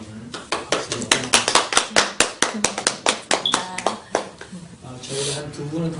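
A Sunday church congregation claps to welcome a visiting guest during worship: many hands in a quick, uneven patter of sharp claps that thins out near the end as voices take over.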